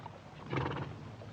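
A horse whinnies briefly at moderate distance, a short neigh rising over quiet background rumble.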